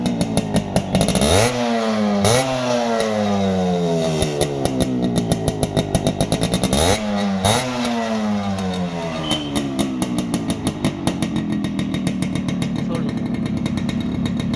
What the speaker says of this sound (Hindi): अब इसके बाद मैं आपको गाड़ी का ज़रा साउंड सुनाता हूँ।